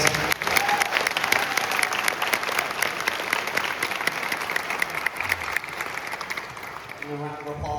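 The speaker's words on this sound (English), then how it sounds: "Having a round of applause for those guys." A large audience claps loudly and continuously, a dense wash of applause that holds steady and then starts to thin out at the end.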